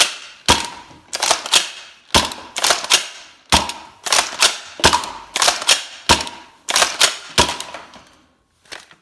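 A Nerf Cycloneshock Mega blaster fires repeatedly, each loud close crack paired with the clack of its priming action, in a steady rhythm of about six shots with brief pauses between them.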